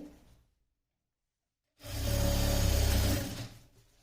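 A sewing machine stitches a sling bag made from a blouse piece. After a silent pause, one close, steady run of stitching lasts under two seconds, then stops.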